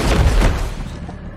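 A single loud gunshot from a non-automatic weapon in the shooter game Warzone, a sharp boom that decays into a rumbling tail over about a second, heard alone.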